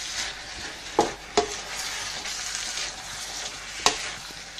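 Pasta with chorizo stirred through in a hot pan, a steady close sizzle of frying under a few sharp knocks of the spoon against the pan, with no talking.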